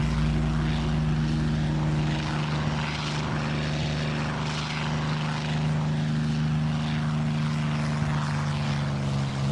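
Propeller planes flying in the Air Conflicts: Secret Wars video game, a loud steady multi-engine drone with a strong low hum and shifting airy wash, continuous for nearly ten seconds with no talk.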